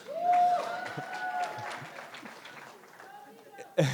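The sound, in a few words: audience clapping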